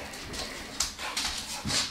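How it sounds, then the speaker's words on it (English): Dogs whimpering excitedly, heard through a home surveillance camera: faint, repeated high whines and yelps in quick succession against a hissy background. "My dogs are going crazy."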